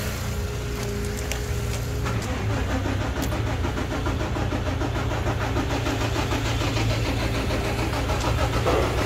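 A truck engine cranks and catches after a jump-start, then settles into a steady, rumbling idle that keeps running up close, with no voices over it.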